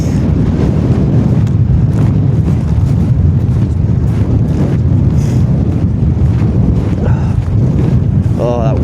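Cold wind blowing hard on a hilltop along the Irish East Highland Way, a loud, constant roar and buffeting across the microphone with faint breathing underneath.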